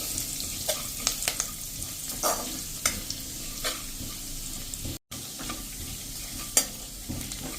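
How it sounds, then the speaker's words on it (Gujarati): Mustard seeds hit hot oil for a Gujarati potato and gram-flour snack, crackling with scattered sharp pops over a steady close sizzle. "અને 1/4 ટીસ્પૂન જેટલી આપણે રાઈ પણ નાખી દેશું"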